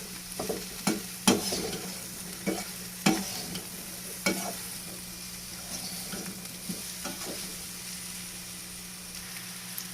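Mixed vegetables being stirred with turmeric, salt and spices in a pan, giving repeated scraping and clattering stirs with sharp knocks over a soft steady sizzle, close and fairly quiet, no talk.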